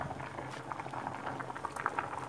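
Rice boils in a pot on high heat, its water nearly cooked off, giving a steady bubbling and popping with quick irregular patters, close and moderately loud.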